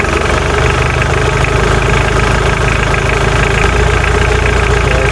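A cold Mitsubishi diesel engine with a VE injection pump idles very low and steadily up close, a continuous low rumble with a rapid knocking pulse, with no voices.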